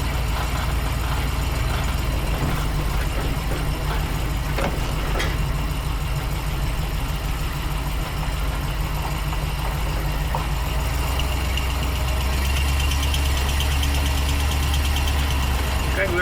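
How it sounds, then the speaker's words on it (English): A 1954 Buick engine idling with an exhaust leak, giving a steady low rumble with a ragged, puffing edge that swells louder near the end, with some faint clatter over it. "We got an exhaust leak."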